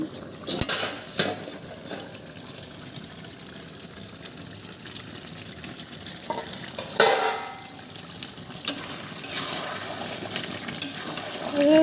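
Desi chicken meat being sautéed and stirred in a pan, with repeated scrapes and clinks of a utensil against the metal over a soft background sizzle. No one speaks.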